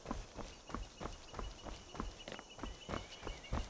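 Horse hooves in the video game Skyrim, a steady clip-clop of walking hoofbeats at an even rhythm, faint and fairly close, with no talking.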